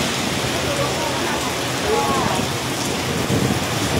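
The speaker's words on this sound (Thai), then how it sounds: "นี่ครับเราจะดูฝนโอ้โหเป็นเส้นถึงเส้นเลยนะผมโอ้โหหนักครับ" Heavy rain roars in a thick, constant wash with low rumbling underneath, like a downpour with thunder and strong wind, loud and unbroken.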